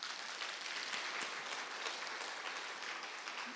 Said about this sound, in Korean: 박수 한번 쳐보세요.